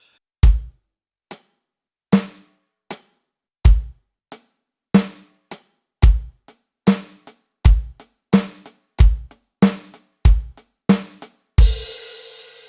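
A basic beginner drum rhythm alternates bass drum and snare hits at a steady, slightly quickened pace, each stroke sharp and clearly separated by silence, ending with a crash cymbal wash; close and solo with no voices.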